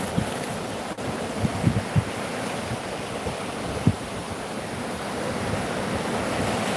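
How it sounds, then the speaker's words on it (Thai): Sea waves wash onto the shore in a soft, continuous roar, fairly faint and distant, with a few small splashes and light wind noise and no voices. "ปล่อยใจตามคลื่นทะเลแบบนี้"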